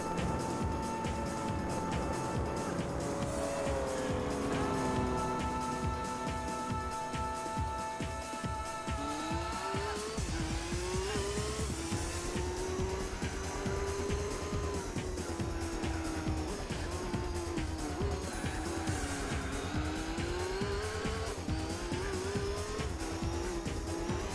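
Race cars in a video game race roar and rise in pitch through gear changes, with tire squeal and skidding mixed into a dense, steady engine drone that stays loud throughout.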